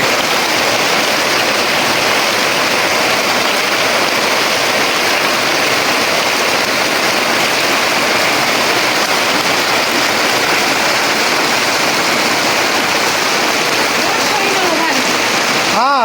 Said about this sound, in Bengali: আরে বৃষ্টি নামটা রে